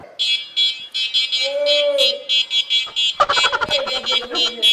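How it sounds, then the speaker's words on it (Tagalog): A shrill electronic horn of a Motur Prisma electric scooter beeps in rapid repeated pulses, loud and close, with a voice calling out and people reacting partway through. "Malakas yung busina."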